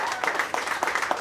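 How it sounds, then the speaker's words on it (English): A brief round of audience applause for partners at a Louisville steamboat race event, a short burst of scattered claps with voices audible underneath. "So a huge round of applause for them as well."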